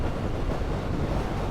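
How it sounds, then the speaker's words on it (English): Strong wind buffets the microphone in a steady, loud broadband roar with no pauses, in the Scottish Highlands on a summer Triumph motorcycle trip along the NC500. "It is very windy now."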